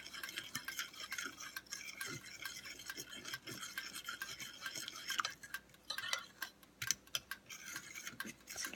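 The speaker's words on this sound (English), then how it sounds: "you just want to keep stirring" Thickening chicken gravy stirred in a pan, with faint rasping scrapes of a utensil against the pan repeating in a loose rhythm and a few sharper clicks, quiet and close.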